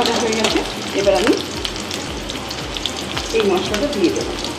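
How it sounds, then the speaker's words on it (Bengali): Chopped onion fries in oil in a kadai for fish keema, a steady close sizzle with occasional stirring scrapes and a faint voice murmuring underneath. "পেঁয়াজটা হাফ ভাজা হয়ে গেছে"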